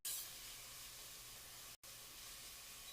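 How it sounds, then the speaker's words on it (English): Scoops of pungent paste sizzle in a hot pan, a bright steady hiss that starts at once and holds, briefly cut out near the middle, close with no talk. "You can hear it instantly start to sizzle off."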